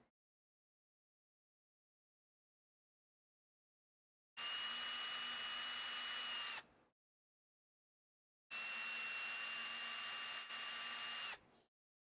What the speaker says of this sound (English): Go ahead and drill through both of these now.